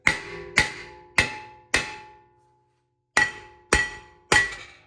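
Hammer smacking the front brake rotor of a 2022 Lexus NX350 to knock it loose: seven sharp metallic strikes with ringing decay, four in quick succession, a short pause, then three more, close and loud with no talk.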